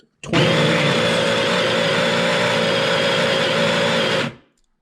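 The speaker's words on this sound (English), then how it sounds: "That grinder is absurdly loud, but it works really well." Electric coffee grinder grinding beans for a Flair espresso, one very loud continuous high whirring burst lasting about four seconds, starting abruptly and cutting off sharply.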